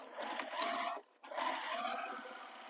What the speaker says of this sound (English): I'm going to sew the other side.